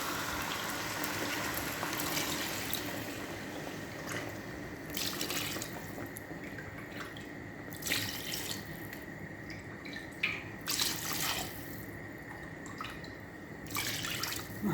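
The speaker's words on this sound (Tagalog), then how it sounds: "Lagay ko na siya ng tubig." Water runs and splashes steadily into a pot, with intermittent bursts of pouring and dripping over a constant hiss.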